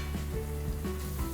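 Ginger slices fry in hot coconut oil, giving a soft, steady sizzle with faint crackles throughout.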